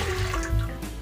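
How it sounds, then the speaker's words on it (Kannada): Water is poured into a pressure cooker in a home kitchen: a short, steady splashing rush, close and fairly loud, with faint tonal background sound. "ಇವಾಗ ಇಲ್ಲಿ ನಾನು ಕುಕ್ಕರ್ಗೆ ನೀರು ಹಾಕೊಳ್ತಾ ಇದ್ದೀನಿ"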